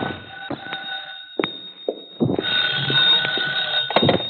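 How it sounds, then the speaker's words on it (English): A telephone rings in an old radio detective drama, with repeated bursts of bright bell ringing and pauses between them, loud and close with no talking. "My phone was ringing when I got there."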